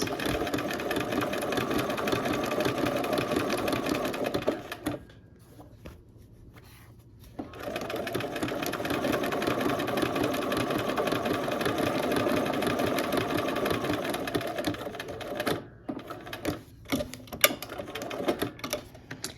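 Sewing machine stitching a quilt at a slow pace, a steady mechanical hum and rapid needle chatter with brief pauses as the fabric is shifted, close and alone.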